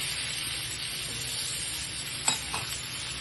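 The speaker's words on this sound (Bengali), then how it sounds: "ছাপড়ে নিচ্ছি মানে একটু লাল করে ভাজা করে নেবো" Rohu fish frying in hot oil in a pan for a curry, a steady close sizzle with a couple of brief sharper spits and stirring clatters near the middle.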